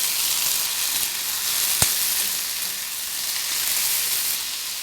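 Boiled Chinese potatoes (siru kizhangu) fry with shallots in a pan, giving a steady soft sizzle throughout with one brief sharp pop partway through.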